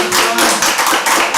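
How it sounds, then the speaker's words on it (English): An audience at a school board meeting breaks into a loud, dense burst of clapping and crowd noise, brief and close. "if we could just hold the applause and booing or whatever that is"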